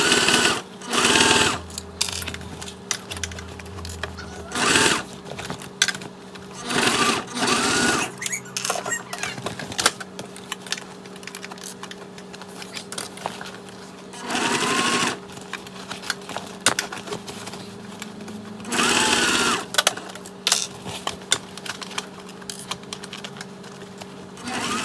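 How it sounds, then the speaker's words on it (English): A sewing machine runs in repeated bursts, stitching a bag of vinyl and waterproof canvas, with a steady whir between pauses and a few louder surges. "sew with the lining side up at whatever your desired stitches"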